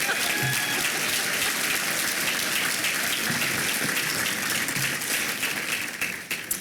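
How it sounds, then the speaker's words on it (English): Sustained audience applause fills a hall at a regional chamber of commerce award ceremony, a dense, steady clapping wash that holds loud and even for several seconds before thinning slightly at the end. "Can I please have a round of applause for this group before I move on to the next?"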